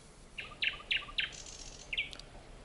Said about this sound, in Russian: Соловьи начинают вечерние трели.